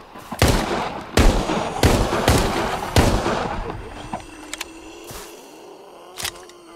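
Rapid gunfire in the Arizona Sunshine game, about eight sharp close shots in an uneven rhythm, loud at first and then thinning out into a few spaced shots over quieter background noise.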